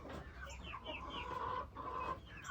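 Chickens cluck softly nearby on a farm, a few short rising calls repeating in loose bursts over a faint background murmur.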